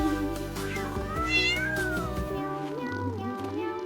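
A kitten meows several times up close, with drawn-out, rising and falling cries over a low background hum.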